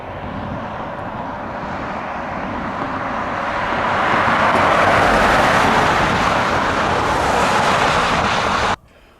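A truck towing a race trailer rolls along the road toward Reno, its broadband road and engine roar swelling louder midway, then cutting off abruptly near the end, with no talking.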